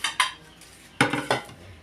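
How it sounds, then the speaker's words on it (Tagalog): Metal pot being scrubbed and handled, with two pairs of sharp clanking scrapes, a pair near the start and another pair at about one second, then quieter rubbing between them, close and without talk. "Lilinis ng kaldero"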